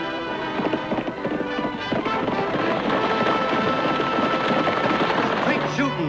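Galloping horse hoofbeats from a 1954 western television series, a dense run of hooves beneath swelling orchestral music that stays loud throughout.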